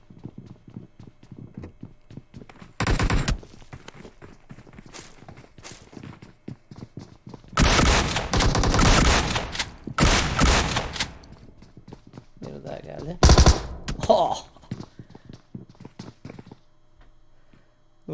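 Thompson submachine gun fire in the PUBG video game comes in a few short, loud bursts of rapid shots separated by quieter stretches of light clicks and thuds.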